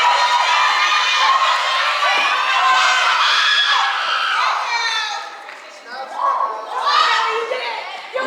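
Loud, sustained cheering and shouting from a crowd of students and families at an 8th grade school-of-the-arts graduation, with excited children's voices screaming and calling out, then dipping briefly before rising again.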